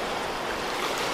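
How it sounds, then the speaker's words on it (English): Ocean surf off Kapaa on Kauai, Hawaii, with waves breaking out at sea and washing in, a steady broadband wash of water with no pauses and no one talking. "look at these waves flowing in, Jess"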